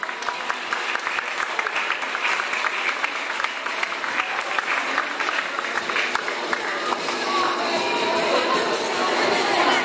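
An audience applauds at the award ceremony of a family cycling rally, with dense, steady clapping that carries on unbroken for the whole stretch and swells slightly near the end.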